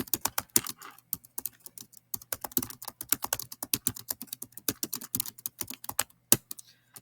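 Rapid, irregular clacking of keys on a computer keyboard while a bulleted list is typed into a document, crisp and close, alone with no talking.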